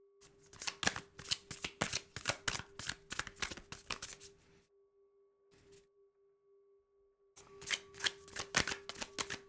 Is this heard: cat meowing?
no